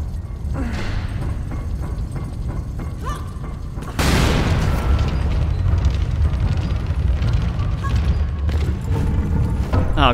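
Planted bomb blowing up in the game Lara Croft and the Guardian of Light, a loud booming blast with a rumbling tail over steady game noise.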